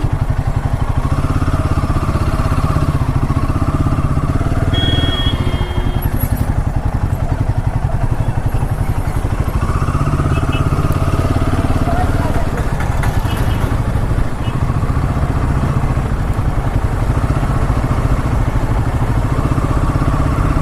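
A Royal Enfield Himalayan 450 motorcycle rides through heavy, crowded traffic on the way to Dhanushkodi, its engine a loud, continuous mid-pitched drone mixed with wind rush from start to finish.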